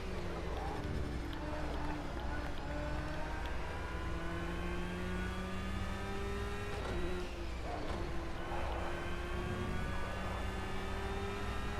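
Race car engine in a racing video game, a steady droning whine that shifts pitch with gear changes and dips around corners, continuous throughout under faint background sounds.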